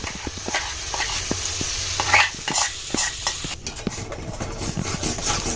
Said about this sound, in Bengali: এবার আস্তে আস্তে এইটা নাড়তে হবে